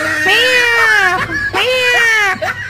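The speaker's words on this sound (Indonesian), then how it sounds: "Ternyata dikasih suara kucing bangun ini." Two long, loud, close cat meows played in a row, each rising and then falling in pitch, with nothing else behind them.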